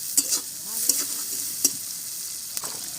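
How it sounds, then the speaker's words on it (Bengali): Chopped garlic and onion with a little salt fry in a pan, a steady sizzle broken by a few sharp scrapes and clicks of stirring, close and moderately loud. "রসুন পেঁয়াজ কুচি, হালকা লবণ দিলাম। এই যে নাড়াচাড়া চলছে"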